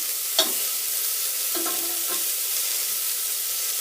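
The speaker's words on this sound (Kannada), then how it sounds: "ನಾಲ್ಕು ಒಣಮೆಣಸಿನ್ಕಾಯಿ ಕರಿಬೇವು ಈರುಳ್ಳಿ ಸ್ವಲ್ಪ ಹಿಂಗೆ ಹಾಕೋತಾ ಇದ್ದೀನಿ" Dried red chillies, curry leaves and onion dropped into hot oil in a pan, giving a steady close sizzle with a few sharp stirring clicks and scrapes; no talking.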